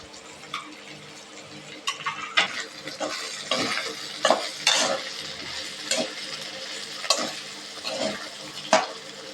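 Dried fish frying in a pan with spices, a soft steady sizzle broken by repeated scraping strokes of a spoon stirring, close and fairly quiet, with no talking.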